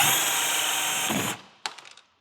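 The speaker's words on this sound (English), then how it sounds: "and they're riveted. So it's time to drill." Power drill boring out rivets that hold mounting parts for the front bumper of a Dodge Challenger Hellcat: a loud, steady high whine for over a second, then winding down, followed by a few brief clicks and taps.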